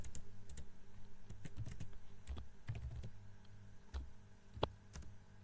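Rapid typing on a computer keyboard, a close run of light uneven key clicks with brief pauses and one sharper tap near the end.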